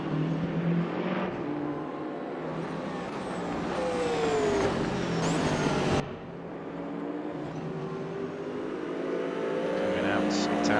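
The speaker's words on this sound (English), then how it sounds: "A beautiful looking Dunlop BMW machine versus the Corvette BF Goodrich livery of Jamie Dory." GT3 race cars, a Dunlop-liveried BMW and a BF Goodrich Corvette, lapping Imola in the Raceroom Racing Experience sim, with steady engine drone and rising, shifting whines throughout while a commentator talks over them.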